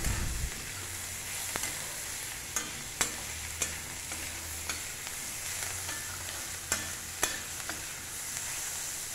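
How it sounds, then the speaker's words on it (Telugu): Parboiled bitter gourd pieces frying in a pan make a continuous close sizzle, punctuated by periodic sharp clinks and scrapes of a spatula stirring them; no one talks. "ఇది ఉడికిందే కనుక మనకు జల్దీ ఫ్రై అవుతుంది."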